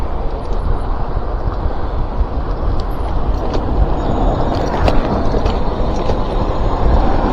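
A car overtakes an e-bike rider on a cracked road beside a truck, its steady road rumble heavy under buffeting wind on the rider's microphone, holding close and loud throughout with no clear peak.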